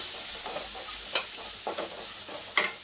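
Sambar ingredients with brinjal and salt frying in a pan, a few brisk spoon scrapes over a constant close sizzle, short and clear.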